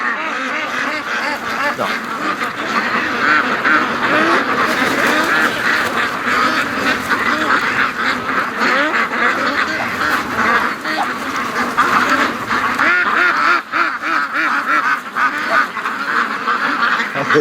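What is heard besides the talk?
ducks quacking, including Muscovy duck, at a lake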